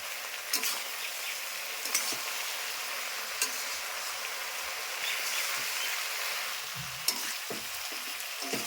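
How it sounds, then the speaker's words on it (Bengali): Potatoes fry in a pan on a gas stove, cooking for a jackfruit and prawn curry. A steady, close sizzle runs throughout, with a few faint clinks of stirring. "পাশের গ্যাসে কাঁঠালে দেওয়ার জন্য আলু, সে আলুটা ভাজা হচ্ছে"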